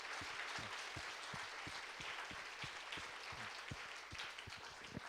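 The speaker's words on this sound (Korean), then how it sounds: "다시 한번 우리 글로리아 찬양대를 위해서 또 지휘자님 위해서 큰 박수 한번 부탁드리겠습니다" A congregation at a church youth service applauds the Gloria choir and its conductor, the steady clapping faint and distant, with occasional low thumps underneath.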